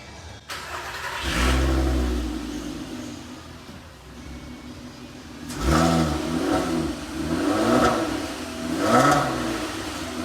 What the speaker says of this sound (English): There we go, first start with the new exhaust.